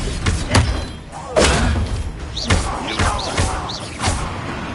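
Spell blasts from the Hogwarts Legacy video game, including Bombarda and Confringo, land as a string of heavy thuds and booms, spaced about a second apart, under shouted incantations.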